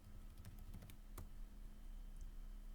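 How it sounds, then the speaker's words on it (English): Computer keyboard keys tapped while entering an Excel formula, a short burst of clicky strokes early on, then a few isolated taps over a steady background hum. "First, we have to obviously type in the formula for SUMIF."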